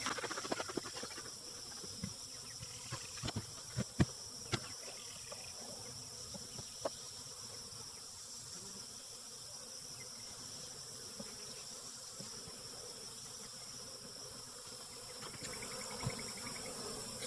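A tiny late-season honeybee swarm buzzes faintly inside a swarm trap, a soft continuous hum with a few light taps and rustles, quiet and close.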